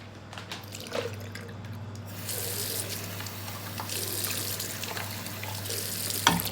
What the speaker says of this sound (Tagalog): tatapon ko na itong tubig ng ibon